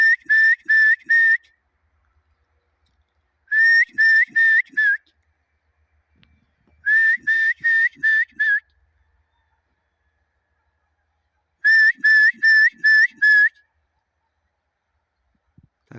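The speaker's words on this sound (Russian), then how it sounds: "Почему я приучаю на свист их?" A person whistles to call young horses about two and a half years old, in four separate loud bursts of rapid, repeated high whistle notes. Each burst has about four to six notes, with quiet pauses between bursts.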